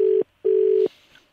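A telephone line tone from someone calling over and over: two loud, steady beeps, the first short and the second longer, followed by quiet.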